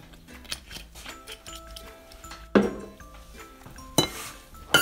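A spoon scrapes and clinks against a bowl while ingredients for vegetable balls with olive oil, salt and pepper are mixed, giving intermittent close taps and a few sharper knocks.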